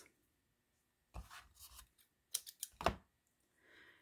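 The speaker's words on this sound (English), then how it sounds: "we're just going to cut that in thirds" Scissors snip a long piece of string into three short pieces for a birthday card craft, giving a few close, crisp cuts in quick clusters over a quiet background.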